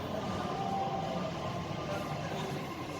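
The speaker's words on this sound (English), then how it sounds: "hopefully here comes our train" A Doha Metro Gold Line train approaches the platform, a steady low rumble and rail hum heard at moderate distance with even loudness throughout, with no talking.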